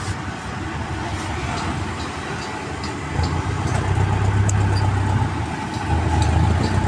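A Yamaha Aerox V2 motorcycle engine runs steadily at close range, a low rumble that grows slightly louder midway and holds, with no voices.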